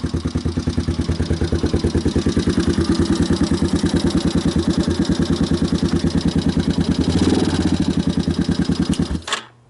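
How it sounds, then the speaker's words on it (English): A 2010 Gio 250 Chinese dirt bike engine idles close up with a fast, even putter that holds steady for several seconds, then cuts out abruptly. "The idle speed, it's not too loud."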